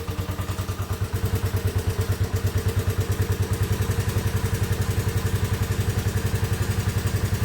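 A Honda ATC 185S three-wheeler from a barn find, its small engine running after starting with a steady, fast chugging pulse, close and loud, no voices.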